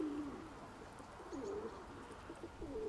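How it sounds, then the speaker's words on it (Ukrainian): Soft coos from three pigeons rise and fall a few times against a steady outdoor hiss, moderately close and fairly quiet. "А там трійка голубів."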